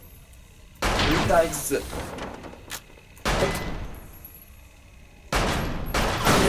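Gunfire in the VR shooting game Lethal VR, loud bursts of rapid shots in three separate volleys with quieter gaps between them and a player speaking briefly.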